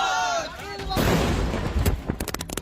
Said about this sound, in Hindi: बम धमाके की ये लाइव तस्वीरें पश्चिम बंगाल के श्रम राज्य मंत्री जाकिर हुसैन पर हुए हमले की हैं।